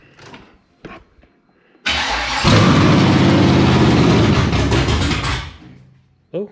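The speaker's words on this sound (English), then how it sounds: "let's turn the key and see if it idles any better" LQ4 LS3 V8 engine cranking over and catching, then running at a loud steady high idle for about four seconds before cutting off, with brief voices before and after.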